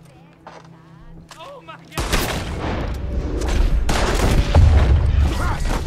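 Gunfire erupts in a Red Dead Redemption 2 saloon standoff, a burst of loud, rapid shots and booming reports following a brief quiet exchange, with a voice exclaiming over the chaos.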